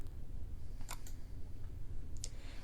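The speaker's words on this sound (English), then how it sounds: "Run it again by clicking on the Run icon in the toolbar." A single computer mouse click on a toolbar Run icon, followed by a second faint click moments later and another near the end, soft against a low hum of background noise.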